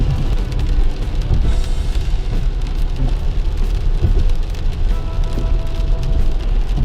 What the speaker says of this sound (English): It's a little raining